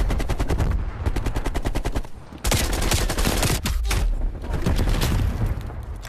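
Rapid automatic blaster fire rattles in loud, continuous bursts with a brief pause in the middle, from the VR shooter Cold War Zombies, close and dominant.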